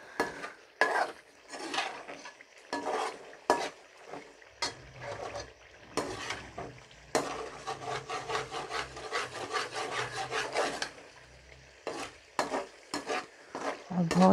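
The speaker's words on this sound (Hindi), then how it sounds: "ये देखें पहले अच्छी तरह से हम इसको भूनेंगे अच्छी तरह से" Chicken gizzard masala fried and stirred in a pan, repeated rough scraping strokes of a spoon against the pan over a low sizzle, some strokes in quick runs and others spaced apart, close and moderately loud.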